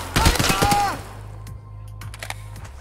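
A burst of rapid gunfire in the Escape from Tarkov shooter, several close sharp cracks in quick succession during the first second, then quieter scattered shots and clicks trailing off.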